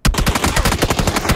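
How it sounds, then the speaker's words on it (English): Rapid automatic gunfire in PUBG, a fast regular string of sharp close shots, roughly a dozen cracks in quick rhythm, loud and alone with no talking. "Oh, they just shot again."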